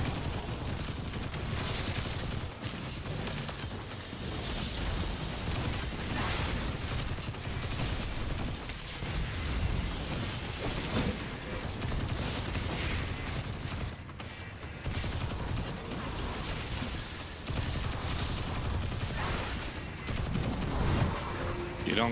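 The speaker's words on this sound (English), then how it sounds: "let's see what this bad boy does. I do like submachine guns" A submachine gun firing in Destiny 2, as dense, continuous rapid gunfire with game effects layered in, loud and unbroken throughout with only brief dips.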